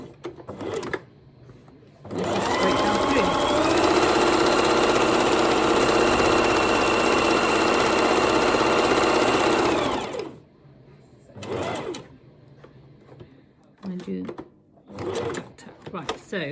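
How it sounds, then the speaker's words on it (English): A sewing machine runs steadily for about eight seconds, stitching a long fabric piece for a costume leg, a loud close mechanical whir with a fast needle rhythm, framed by brief handling noises and short bursts of talk before and after. "I've just adapted it to how I sew on the sewing machine."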